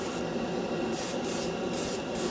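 Steady airbrush blast flash-drying a coat of Createx Wicked acrylic red on a sanded scale model, a continuous hiss with several short louder bursts, close and alone.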